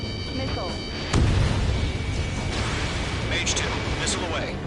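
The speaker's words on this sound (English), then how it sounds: "H2, missile away." Missile launches and explosions from the jet combat game Ace Combat 7 roar through a dense, continuous engine drone, with a heavy boom near the start and faint cockpit warning tones and radio voices layered over it.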